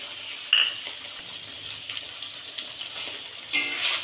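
Bottle gourd paste is stirred in a hot pan over a low background sizzle, with a few metallic spoon clinks and scrapes close by, one louder scrape near the end.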